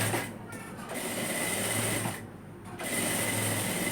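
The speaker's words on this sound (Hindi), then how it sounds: "एक एक पैर की सिलाई दोबारा लगा दी।" A sewing machine stitching a peplum top, running in loud close bursts of rapid whirring that pause briefly twice as the fabric is turned.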